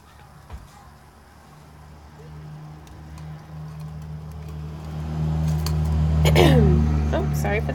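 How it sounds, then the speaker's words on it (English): Steady low road traffic rumble that swells toward the end, with a brief sharper passing sound near the close, heard outdoors under a person's voice. "sorry for the traffic noises"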